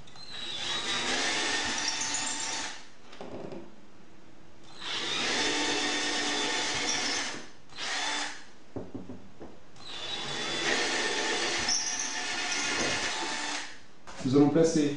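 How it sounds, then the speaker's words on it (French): Power drill bores into plasterboard at pre-marked spots while a guitar wall bracket is fitted: several loud whirring bursts of a few seconds each, separated by short pauses, near and without talk. "on va venir percer sur les marquages que nous avons effectués au préalable"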